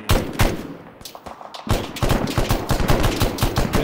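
Rapid automatic rifle fire in Arma 3, loud and close, with bursts of shots in a rough rhythm broken by a short lull before a denser, sustained stream of gunfire.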